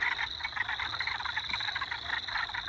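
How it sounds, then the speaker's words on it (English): Many frogs croak together in a chorus at a pond, a dense, steady pulsing trill with a high insect-like whine, heard at a moderate distance with no talk. "These frogs are having the best time of their lives."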